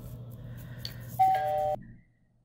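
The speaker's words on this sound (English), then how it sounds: "Each time you hear the doorbell ring," A two-tone doorbell chime rings once, clear and fairly close, over a low steady hum and soft background sound.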